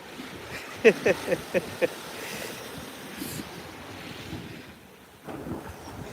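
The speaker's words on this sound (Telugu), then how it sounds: "meets bay beach" Surf rolls onto the sand at Meads Bay beach in Anguilla, a soft, low wash of waves under breezy wind noise, with a short run of sharp clicks or knocks early on and a quieter lull near the end.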